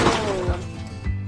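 A large chunk of coal or rock falls in an underground coal mine, a loud close crash and breaking impact at the start followed by lighter thuds as debris settles.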